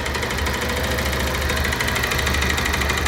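A motorcycle engine idles steadily with a worn connecting rod, giving a rapid, even knocking tick over the mid-pitched engine hum, recorded close up.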